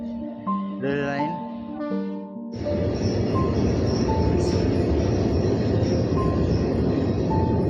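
Train passing on a nearby railway line in rural Birbhum, a loud continuous rumble that starts abruptly after a few seconds of tonal sounds.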